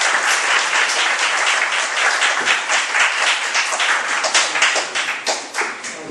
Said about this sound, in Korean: 큰 박수로 장원봉 선생님 모시겠습니다